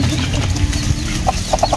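Chickens and chicks mill about in a yard while a few short clucks sound near the end over a low, steady background murmur.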